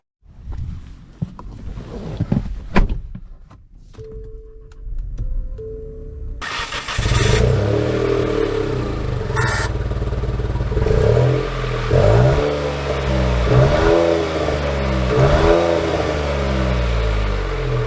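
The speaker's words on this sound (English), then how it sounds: "let's see how it drives." 2022 Nissan Rogue Platinum: after a few clicks and a brief chime inside the cabin, the engine starts and accelerates while driving, with a steady hum that rises in pitch through several gear changes, heard from inside.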